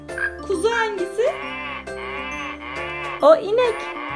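A toy plays a cow moo, drawn out and steady, with a person's voice briefly rising over it at the start and near the end.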